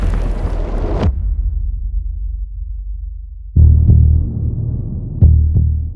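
Heavy explosions from a strike on a Russian armored column: a sustained rumbling blast cuts off abruptly, then after a pause two more deep booms erupt, each followed by a rolling low rumble.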